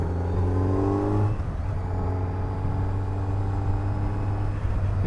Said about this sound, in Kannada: ಇದು ಫಸ್ಟ್ ರೈಡ್ ನಂದು ಹೊಸ ಬೈಕ್ Z900 ಮೇಲೆ